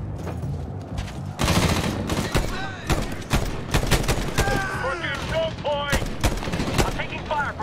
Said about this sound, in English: I'm taking fire from up slope.